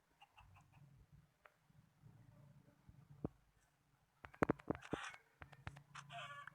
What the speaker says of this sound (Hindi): ये फिर से आ गई एक मुर्गी